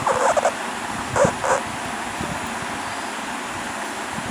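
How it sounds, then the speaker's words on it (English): A dog gives a few barks, with a cluster near the start and another pair about a second later, moderately loud against a faint background. "Dog barks."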